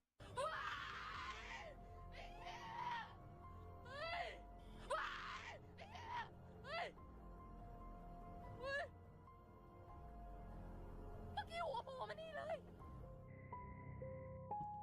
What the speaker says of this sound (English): Her scream sounds so real.